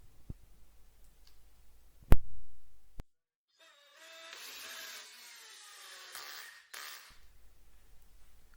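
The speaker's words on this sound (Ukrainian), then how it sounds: "Щоб потестити шурупокрут, я взяв поліно акації і шурупи довжиною 45 мм." A cordless screwdriver drives a 45 mm screw into an acacia log. A few sharp clicks come first, then a quiet motor whine lasts about three seconds before it cuts off.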